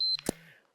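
A workout timer gives a short, sharp electronic beep to start an upper body dumbbell session, close and clear, followed by a brief quieter click and a faint trailing tone.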